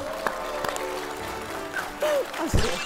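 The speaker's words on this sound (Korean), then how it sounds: "이거는 우리 혜정이한테 박수 쳐줘야 돼" Studio audience applause on a Korean talk show, a short burst of clapping under voices and laughter, with a louder swell near the end.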